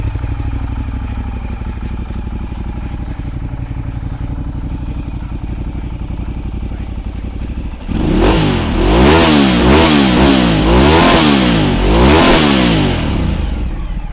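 A Ducati Diavel Red Carbon twin-cylinder motorcycle idles with a steady throb, then is revved hard several times in rising and falling bursts, loud and close.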